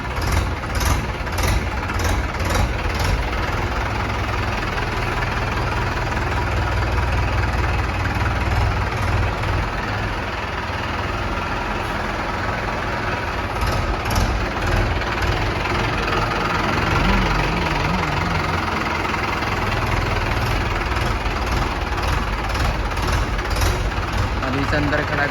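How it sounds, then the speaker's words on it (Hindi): A Mahindra 585 tractor engine idles steadily and loudly up close, a continuous low rumble with a faint rhythmic knock, running on throughout while someone talks nearby. "अभी इसे अंदर खड़ा करते हैं ट्रैक्टर को"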